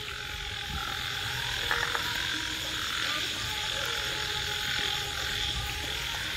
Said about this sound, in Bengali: আর এই সাইডে বাগানে পুরো ঝোপঝাড়, সেখানে পুরো ব্যাংক ডাকছে।